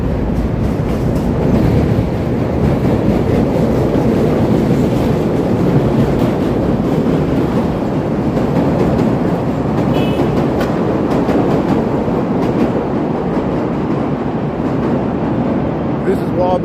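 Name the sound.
Chicago elevated Loop train passing on tracks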